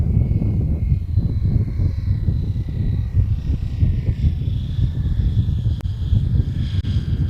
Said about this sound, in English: Bring the plane around in for a landing here. Pilot pulling back the throttle, and of course we can hear it.